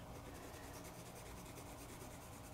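A hard H pencil shading across paper in steady, close back-and-forth strokes, a dry continuous rubbing rasp with no voices.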